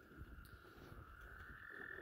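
Frogs croak faintly and close together in a back pond on a farm, a low rough chorus under a steady high background hum. No voices.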